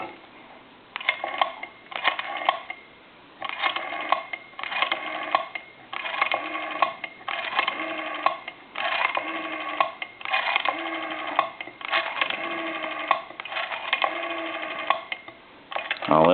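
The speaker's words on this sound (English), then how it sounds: "I'm going to go ahead and dial some numbers here for you." A Western Electric 302 desk telephone is dialed number by number, its rotary dial whirring and clicking back in repeated bursts separated by short pauses, close and clear with no voices over it.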